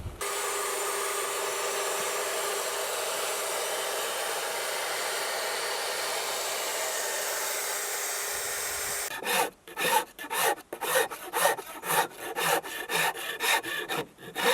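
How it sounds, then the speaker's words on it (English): Power sander grinding down a small wooden latch part: a steady broadband whir for about nine seconds, then a run of short, rhythmic rubbing strokes as the wood is pressed and lifted repeatedly, close and fairly loud. "I'll bring it down with the sander."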